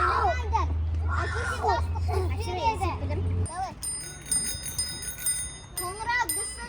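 A school bell rings out for break after the chatter of children playing, a steady metallic ring that runs through the second half while kids keep talking and shouting close by.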